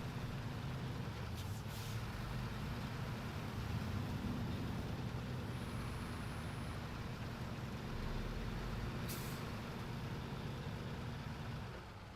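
Trucks in a line in the video game SnowRunner, including an International Paystar 5600, rumble steadily with a low engine drone, and brief air-brake hisses cut in near the start and again toward the end.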